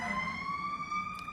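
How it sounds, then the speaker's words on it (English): An emergency vehicle siren passes nearby, a loud steady wailing tone with strong harmonics that sweeps gradually upward in pitch, heard alone without talk. "a siren is passing by, of course,"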